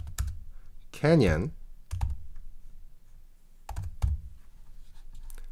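Computer keyboard typing in short bursts of soft clicks between pauses, close and fairly quiet, with a person speaking briefly between the keystrokes.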